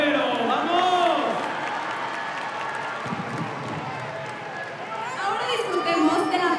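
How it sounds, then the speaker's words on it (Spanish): A crowd at the opening ceremony of the L Juegos Interjesuíticos claps and cheers, a broad wash of applause and chatter filling the space at a loud, fairly steady level with voices mixed in. "Que se escuche fuerte ese aplauso para la Ibero."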